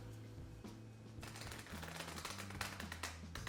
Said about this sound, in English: you're going to take both of these stacks and kind of do like a poker shuffle, like a riffle shuffle